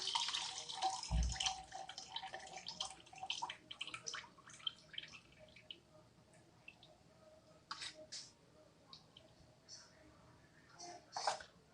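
Tap water pours and splashes in a sink as food for a baby is rinsed, a steady running-water wash with intermittent clatter and splashes, fairly close and moderate in level.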